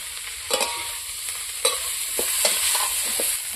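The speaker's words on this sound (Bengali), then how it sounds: "শুক্তো ভাজা তেলের মধ্যে আমি ফুলকপিটা ভাজি নেব।" Cauliflower frying in hot oil left over from frying shukto vegetables, with a steady close hiss and short bursts of crackle and stirring, no voices.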